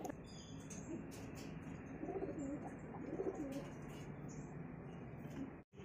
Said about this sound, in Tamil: இப்போ உங்களுக்கு அடுத்த கொஞ்சம் புறாக்களையும் காட்டுறேன்